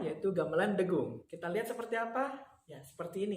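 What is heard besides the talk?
No everyday noise stands out behind the speech.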